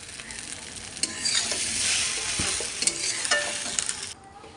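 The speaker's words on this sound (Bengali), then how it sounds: "দিয়ে ভালো করে চাউমিনটা ভেজে নেব" Chowmein is stir-fried in a hot pan with a loud, rushing sizzle that swells in the middle, broken by sharp scrapes and clatters of the spatula before it drops away at the end.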